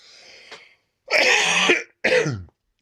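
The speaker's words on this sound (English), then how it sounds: "Apologies for coughing in your ears" A short throat clearing followed by two loud, harsh coughs up close, with brief silence between them.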